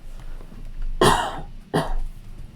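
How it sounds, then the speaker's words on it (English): Two sharp coughs from one person indoors, close to the microphone, the first louder and longer, the second shorter after a brief pause, with a quiet room otherwise. "I need to cough."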